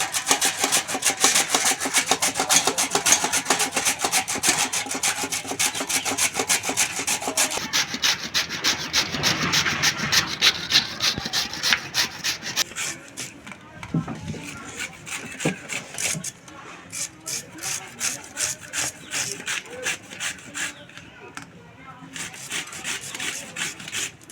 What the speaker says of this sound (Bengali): এবার এখানে গ্রেটার নিয়েছি, গ্রেটারে গ্রেট করে নেব।